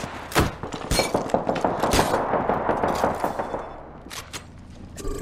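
Gunfire in the Apex Legends video game: dense, overlapping bursts of shots and impacts fill the clip, loud and close, with a brief lull near the end before more shots.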